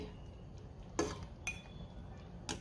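A few quiet clinks of a metal ladle against a pot and bowl as cooked dal is served out, three light knocks spaced apart in a calm kitchen.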